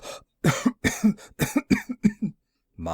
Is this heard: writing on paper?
no